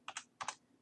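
A few quick computer keyboard keystrokes tap out in two close pairs, faint and near, with no voices.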